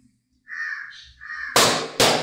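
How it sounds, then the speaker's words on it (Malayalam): A crow caws nearby in a few harsh calls, followed by two loud sudden bursts. "കാക്കയുടെ ശബ്ദം കേൾക്കുന്നുണ്ടോ നിങ്ങള്?"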